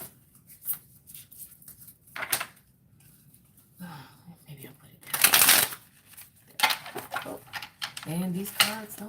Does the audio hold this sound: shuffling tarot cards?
yes